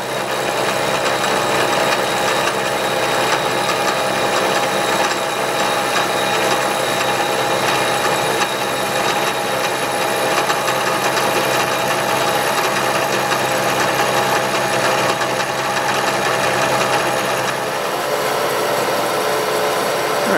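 A composite master square is machined and trued in a vise, a steady loud grinding, cutting whir running continuously with no talk and a slight change in tone near the end.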